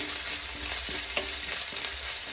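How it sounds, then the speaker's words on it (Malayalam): Crushed garlic frying on a low flame for a Kottayam-style fish curry, stirred in the pan: a steady, close crackling sizzle with scattered scraping stir strokes, no voices. "അതിനുശേഷം നമ്മുടെ ചതച്ച വെളുത്തുള്ളി ഈ ലോ ഫ്ലെയിമിലായിരിക്കണം നന്നായിട്ട് എല്ലാം കൂടെ നന്നായിട്ട് ഇളക്കാം"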